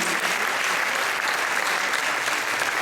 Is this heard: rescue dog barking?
no